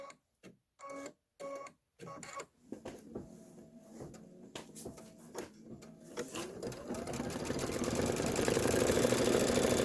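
An embroidery machine stitches an eyelet on a chambray tote. Short bursts of rapid mechanical stitching come first, then a steady, increasingly loud whirring run of stitches with no talk.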